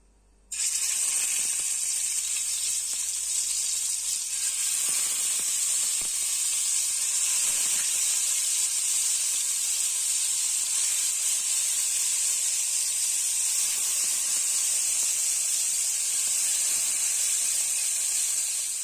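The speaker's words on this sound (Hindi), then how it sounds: "अभी मैं इसे फ्राई कर रही हूँ। फ्राई पैन में मैंने ऑयल डाल दिया और वो गर्म हो रहा है।" Marinated chicken frying in hot oil in a frying pan, a loud, steady close sizzle and hiss that starts abruptly and continues unbroken, with a few faint clinks underneath.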